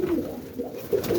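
Boston roller pigeons coo softly inside a loft, two low murmuring calls close by with quiet room noise between.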